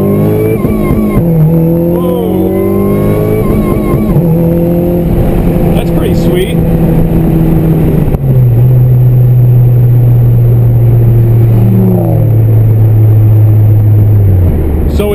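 Honda Civic Si (8th generation) engine under full throttle, revving hard through gear shifts with a rev limiter cutting at the shift point; loud, close engine tone rising and dropping repeatedly across the gears.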